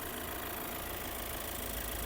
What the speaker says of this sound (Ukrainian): Гляньте, як працює двигун.